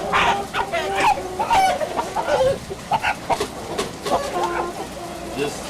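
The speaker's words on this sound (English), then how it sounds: "This Big rooster." Roosters and hens fill a chicken farm house with rooster feed lines, clucking and squawking densely and continuously, with occasional crowing calls overlapping one another at close range.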